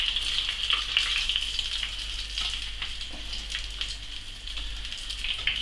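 Squid frying in hot oil, a steady close sizzle and crackle running throughout with small bubbling bursts, no voices.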